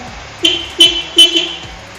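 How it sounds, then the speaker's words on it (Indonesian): Three short, honking beeps from a motorcycle horn, close and loud, evenly spaced with brief gaps between them. "Terus klakson"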